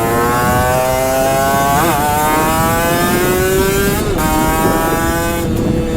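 A Vespa Sprint scooter, fitted with a lowering kit, rides off and accelerates, its engine note climbing steadily in pitch and holding loud and close throughout, with brief dips where the rider eases off.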